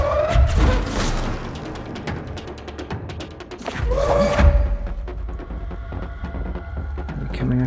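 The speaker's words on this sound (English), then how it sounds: "Throw the explosive thing at the other explosive thing" Explosions in the video game Control as one explosive is thrown at another, two heavy booming blasts a few seconds apart, loud and close, with rumbling debris and mechanical clatter trailing off between and after.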